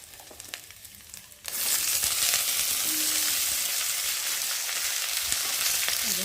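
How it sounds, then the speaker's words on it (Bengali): Chopped ivy gourd tipped into a pan of fried garlic and hot oil sets off a sudden loud burst of sizzling after a quiet start, then a sustained close, crackling fry. "আর এর মধ্যে আমি এখন কেটে রাখা কুদ্রিগুলোকে ঢেলে দেবো।"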